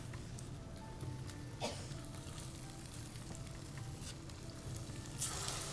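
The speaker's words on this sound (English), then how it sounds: "now we're going to drop our rondelles, shrimp and scallop, or salmon and scallop rondelles," Salmon and scallop rondelles sizzle in olive oil in a hot pan, a continuous, soft crackling fry with occasional brighter pops and spatters and no talking.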